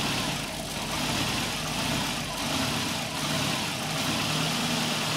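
A 1996 Nissan Altima 2.4L engine runs steadily up close with a rough, slightly uneven idle, a continuous dense mechanical drone, as vacuum is applied to the EGR valve during a test.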